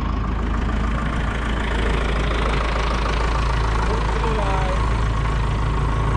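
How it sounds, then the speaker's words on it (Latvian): An ice cream van's engine idles with a steady low rumble, constant and fairly close, with faint voices in the background. "Saldējuma mašīna."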